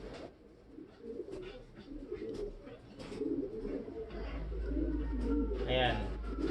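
Imported racing pigeons coo softly and repeatedly at close range in a loft, with someone talking over them throughout and a low rumble building underneath.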